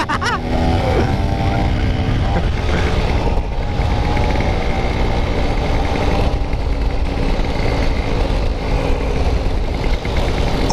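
A Vespa scooter engine, a Super 150 1977 or a Super GTS 150 2014, runs loudly and steadily up close, a rough continuous putter with a few brief voice sounds near the start.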